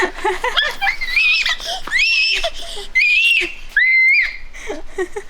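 A baby shrieks and squeals happily during a shower, with several loud high-pitched bursts and gleeful cries spread through the moment, close to the listener.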